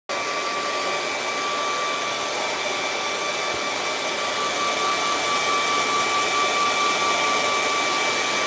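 A hair dryer blowing on a watercolour waterfall painting, a loud, constant close whooshing hum with a steady whine running unbroken from start to finish, no talking.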